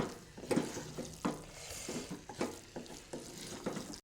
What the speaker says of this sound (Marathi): आता याला आपण छान इथे मिक्स करून घेऊ